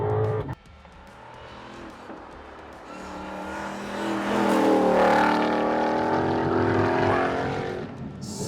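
A Ford Mustang GTD supercar drives hard on a race track, its engine note rising and falling through gear changes, loud and steady with a swelling roar midway.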